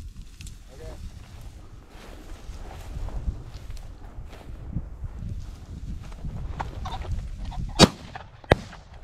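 A shotgun fires while hunting pheasant over pointing dogs on a ranch in eastern Washington, a sharp loud blast followed by a second crisp report, with people talking and moving through brush in the background.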